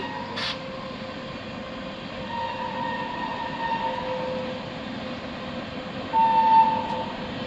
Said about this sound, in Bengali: দেখুন এই আর একটি ট্রেন আসছে